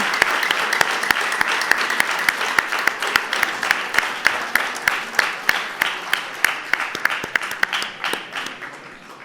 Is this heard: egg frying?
no